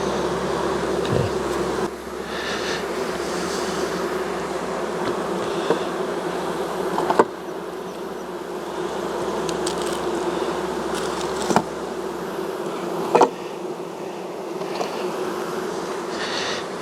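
Honeybees hum steadily around a beekeeper's hive boxes in a continuous, dense buzz. A few soft knocks and clicks come through nearby, and no one speaks.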